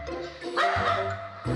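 Dogs yipping, whimpering and giving short howl-like barks, a close, steady run of whiny vocal sounds with no talk over them.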